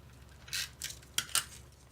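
Scissors snipping through paper margins of stamp case slips, a few short crisp cuts in quick succession, close and fairly quiet, with no talk.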